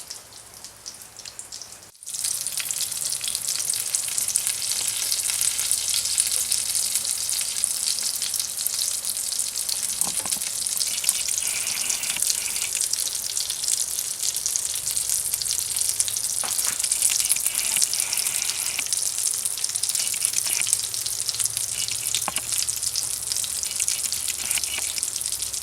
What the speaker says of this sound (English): I'm going to let that sausage cook